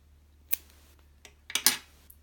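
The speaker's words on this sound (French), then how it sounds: "on peut tout simplement couper notre fil" Scissors snip through embroidery thread for a handmade bookmark, a few short crisp cuts close by, the sharpest clustered near the end, with no talking.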